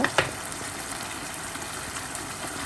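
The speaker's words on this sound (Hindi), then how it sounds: "थोड़ी देर के लिए इसको भूनेंगे" Chicken karahi with cashews being sautéed on low heat, a soft continuous sizzle at moderate level, with a couple of brief knocks at the start and no voices.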